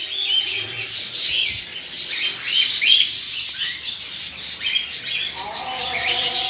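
Birds squawk and chirp in a steady, busy chorus of bright high calls, fairly close and continuous with no talking.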